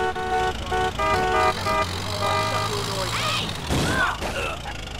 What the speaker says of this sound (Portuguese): Batendo na lataria, né?